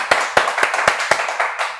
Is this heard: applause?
yes